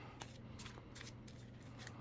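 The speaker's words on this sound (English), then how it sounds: "shuffle that in there" Playing cards from a card-game deck riffle through several quick, crisp bursts of shuffling, close and quiet, in an irregular rhythm.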